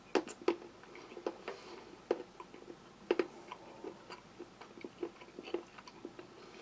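Someone chews a 40-gram bar of crunchy, firm, high-cocoa chocolate from a Dutch cold-weather ration, giving close, crisp crunches and bites in an irregular rhythm, with no talk over them.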